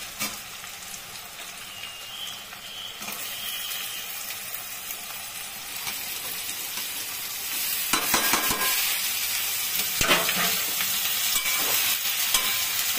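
Raw jackfruit going into hot oil already frying with chopped tomato: a steady close sizzle that swells louder midway as pieces are added, with sharp crackles and scraping stirs, no voices.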